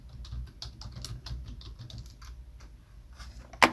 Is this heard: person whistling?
no